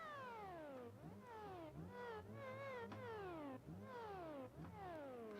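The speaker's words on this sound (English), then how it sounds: "It literally makes cat noises when you lift off." A supercharged inline-6 car in the Automation game lets out a wailing, cat-like whine each time the throttle lifts off, with repeated falling and rising sweeps over a steady engine drone.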